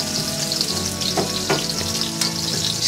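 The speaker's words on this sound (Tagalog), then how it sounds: "Stir fry lang natin siya." Pre-boiled pork stir-fries in a hot pan, giving a continuous loud sizzle broken by a few scraping stirs.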